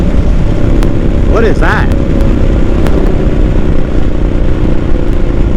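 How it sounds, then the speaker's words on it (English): A motorcycle rolls on the throttle and clicks into second gear with the clutch out, a loud steady engine drone under heavy wind rush, with a brief spoken question partway through. "roll on the throttle. Click into second gear with the clutch out."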